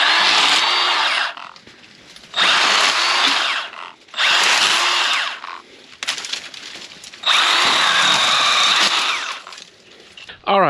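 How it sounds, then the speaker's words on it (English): A Milwaukee cordless power saw trims branches from a tree in four loud, close bursts of buzzing, rasping cutting, each a couple of seconds long, separated by short quieter lulls. "I went up and grabbed the little Milwaukee handsaw or whatever this is. I'm going to go ahead and trim this tree up"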